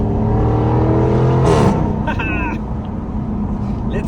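Deep supercharged V8 drone of a 2024 Jaguar F-Type with exhaust pipes open in Sport mode, climbing in pitch as it revs, a brief downshift near the middle, then the rumble settles into a steady roar; loud and close.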